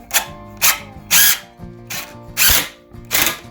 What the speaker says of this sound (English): this is an impact drill